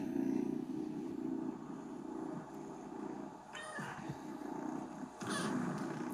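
Cat purring, a low rhythmic rumbling purr in repeated pulses, fairly close, with a couple of brief higher noises interrupting.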